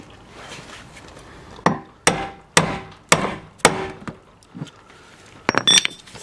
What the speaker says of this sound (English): you can use a hammer and a drift like I'm using